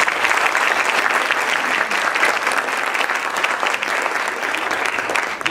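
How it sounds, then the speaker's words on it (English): Audience applause in a high school hall, dense continuous clapping from a crowd at steady volume throughout. "How about a round of applause for that?"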